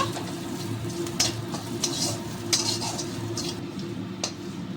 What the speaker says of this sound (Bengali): সব কিছু একসঙ্গে একটু ভেজে নেব